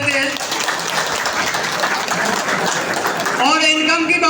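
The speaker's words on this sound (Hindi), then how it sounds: "जोरदार तालियां बजा सकते हैं।" Loud, dense audience applause fills the whole stretch at a motivational business achievers' event, steady throughout, with a voice starting to speak at the very end.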